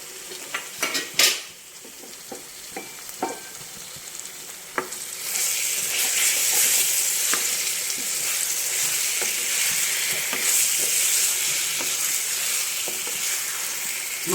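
Mutton sizzles as it fries in a pan with ginger and garlic, with a few metal clinks and scrapes of stirring at first, then a loud, even, continuous frying hiss.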